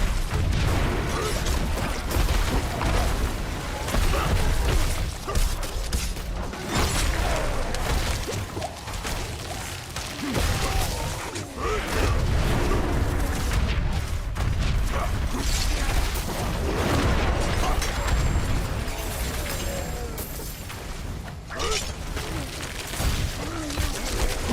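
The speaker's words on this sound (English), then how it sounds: "big factor is that they do that explosion when they die as well" Enemies bursting in explosions as they die during a Diablo 4 Nightmare Dungeon fight with a level 100 Barbarian, a dense, loud barrage of blasts, crashes and whooshes layered over constant combat clatter, with brief talk in places.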